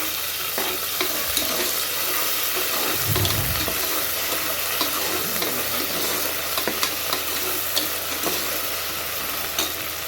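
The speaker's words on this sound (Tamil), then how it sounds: "போட்டுட்டு நல்லா வதக்கி விட்டுக்கலாம்" Ginger garlic paste sizzles steadily in a hot pan for a mutton kurma, with a spoon stirring and scraping now and then, and no one talking.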